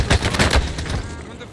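Rapid bursts of automatic gunfire crackle in a Call of Duty battle royale match, several sharp close shots in quick succession that fade out toward the end.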